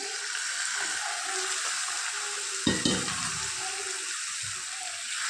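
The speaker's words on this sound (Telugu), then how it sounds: "ఇప్పుడు మనము మ్యారినేట్ చేసినటువంటి చికెన్ని తాలింపులో వేసుకుందాము" Marinated chicken dropped into hot tempering in a pan gives a steady loud sizzle, with a brief burst of crackling as the pieces hit the oil midway.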